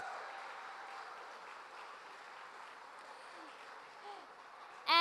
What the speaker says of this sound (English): Huge round of applause for our table sponsors.